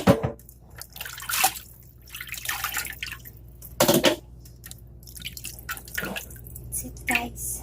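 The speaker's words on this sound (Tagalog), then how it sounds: "we're going to wash now the chicken feet" Raw chicken feet being washed in water, with intermittent splashing and dripping bursts, some louder sloshes near the start and middle, and quieter trickling between them.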